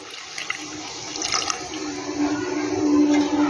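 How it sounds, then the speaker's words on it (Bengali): Lukewarm water is poured into a pan of mourala fish curry. It makes a steady, close splashing and trickling that builds slightly over a few seconds, with no talk. "এবার আমি এখানে জলটা দিয়ে দেবো আমি জলটা কিন্তু হালকা গরম করে নিয়েছি"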